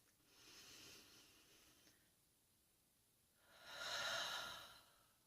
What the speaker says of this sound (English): let's just take a moment to take a deep breath